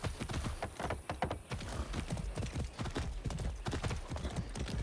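Horse hooves clip-clop steadily in a ridden gallop in the Far Cry 6 video game, close and loud, with a fast even rhythm throughout.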